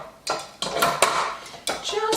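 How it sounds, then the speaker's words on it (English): A mixing bowl being set onto a stand mixer while making raisin spice scones: a few sharp, close clanks and clatters with brief pauses between them. "Now we're going to place the bowl onto the mixer."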